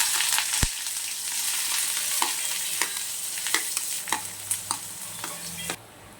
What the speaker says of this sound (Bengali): মশলা, শুকনো লঙ্কা, তেজপাতা ফোড়ন দিচ্ছি